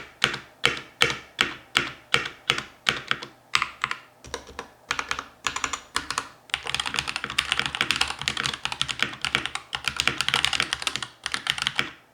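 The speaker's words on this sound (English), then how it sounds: "you can hear from that typing demo that the keyboard is actually fairly loud when you're typing" A Redragon Fizz K617M magnetic keyboard is typed on up close: first a run of evenly spaced, deliberate clacky keystrokes, then a fast, dense flurry of rapid typing, loud and crisp with no talking.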